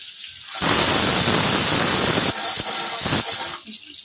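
A pressure cooker on a home kitchen stove vents a loud, rushing steam hiss that holds for a couple of seconds, breaks off briefly, then returns in shorter gusts before fading.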